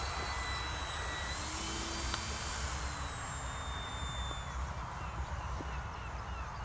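An E-flite Turbo Timber Evolution electric RC plane on a 3S battery flies in winter, its motor a thin whine that rises and fades at a distance, with a person talking throughout.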